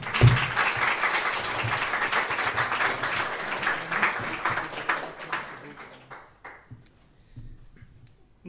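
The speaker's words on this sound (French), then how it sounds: "Petit applaudissement." A small round of applause from the audience at a Rust programming meetup, steady scattered clapping of modest size that thins out and fades near the end.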